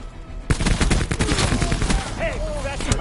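Rapid bursts of gunfire in a PS4 video game, loud and close, with sharp repeated shots and a short synthetic tone sweep near the end.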